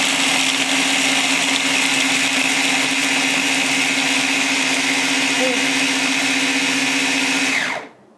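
A food processor chops and grinds almonds for Italian bocconotti cookies, a steady loud whirring motor hum that runs without a break for about eight seconds and then spins down at the end.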